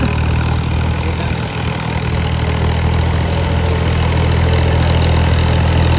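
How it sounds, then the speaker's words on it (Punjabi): A small tractor drags a large rice puddler through a flooded paddy, its engine droning loud and steady with a constant low rumble throughout, close by and with no talk. "ਲਓ ਜੀ ਦੋਸਤੋ ਆ ਰਿਹਾ ਜੀ ਟਰੈਕਟਰ ਦੀ ਪਰਫਾਰਮੈਂਸ ਤੁਹਾਡੇ ਸਾਹਮਣੇ ਆ"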